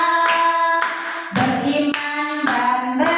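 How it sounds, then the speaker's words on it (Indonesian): A group of people claps in time, loud and close, with distinct rhythmic bursts of hand claps over a sustained sung or chanted tone. "1, 2, 3, sambil tepuk tangan biar rame"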